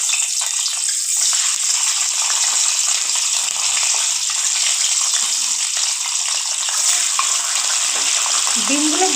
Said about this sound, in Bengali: ডিমগুলো ভেজে নেব।